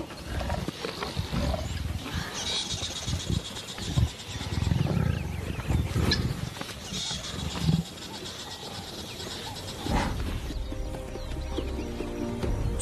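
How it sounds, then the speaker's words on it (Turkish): Lions roaring in the wild, low rumbling bursts rising and falling over about thirteen seconds amid a noisy outdoor background, with louder swells near the middle and a brief crackling, ratchet-like texture. "Aslanlar hedefe kilmiş durumda."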